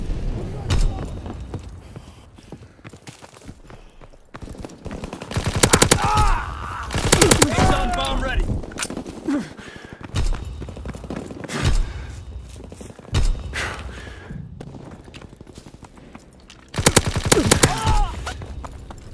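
Bursts of gunfire from the World War II shooter game Call of Duty: WWII, loud repeated volleys with thuds, in several clusters across the clip, with game radio-style voices in the background.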